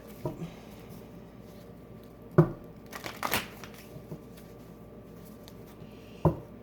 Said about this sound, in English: This deck's gotten a pretty heavy workout, so we're going to shuffle it.